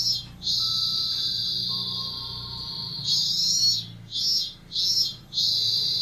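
Cicada sound effect for an outdoor scene in a game, a high, steady buzzing drone that holds for several seconds and then breaks into three shorter pulsing bursts, with faint tones and a low background hum underneath.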